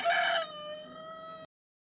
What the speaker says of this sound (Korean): 닭소리 한번 듣고 갈게요.